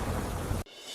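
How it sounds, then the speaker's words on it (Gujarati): Heavy downpour in the Matawadi area on Varachha Road: a loud, dense, steady roar of rain with deep rumbling underneath, cut off abruptly near the end to a much quieter hiss. "વરાછા રોડ પર આવેલા માતાવાડી વિસ્તારમાં ધોધમાર વરસાદ"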